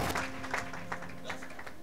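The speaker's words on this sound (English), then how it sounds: "Clap and sit down for me." A church congregation claps briefly during a service, with scattered bursts over a background hum.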